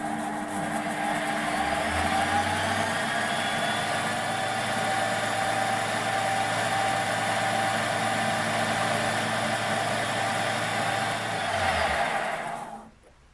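A Warco WM180 mini lathe on its original pulley spins up and runs at a steady speed with a constant motor hum and whine, then winds down and stops near the end.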